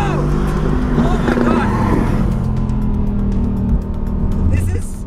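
A 585-horsepower rear-wheel-drive Mercedes-AMG GT R accelerates hard on a race track, its loud engine roar revving up and holding steady near the microphone throughout, with a voice talking over it.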